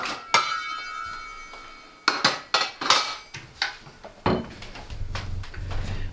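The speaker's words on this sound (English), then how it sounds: "I'm going to get a lid." Metal pot lid pulled from a kitchen cupboard among other cookware while making a spring soup, a series of sharp clanks and clatters, some ringing, close and fairly loud with no talk.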